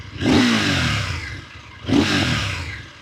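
Two sharp throttle blips from a KTM 990 Duke R motorcycle engine, each rising quickly and fading into a rumbling idle, close and loud with no talk.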